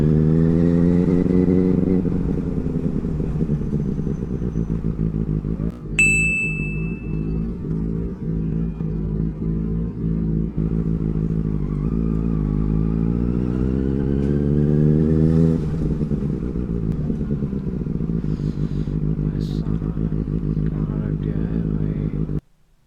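A Benelli 600i superbike's engine pulling hard at full throttle, a loud, close, rising and falling multi-cylinder drone through shifts, with one brief sharp high chirp early on and the roar cutting off at the end.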